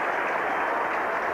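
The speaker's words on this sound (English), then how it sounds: "And even the bowler is clapping" Crowd applause at a 1985 Ashes Test cricket match between England and Australia, a dense, steady wash of clapping heard from a distance.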